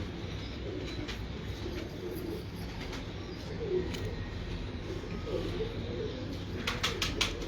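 Sialkoti pigeons on a rooftop loft coo in low, repeated murmurs, with a faint brief flutter of wings near the end over a steady background hum.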